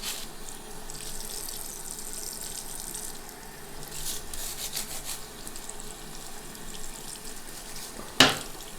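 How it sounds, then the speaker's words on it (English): A Crystal Quest inline shower head filter is scrubbed at a sink, giving a steady close rubbing and watery scouring texture for several seconds, ending in a brief sharp knock. "give it a good scrub."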